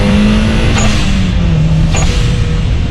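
Toyota Celica GT-Four with its turbocharged four-cylinder engine, a loud, close engine drone holding steady with a slight dip in pitch and no talking.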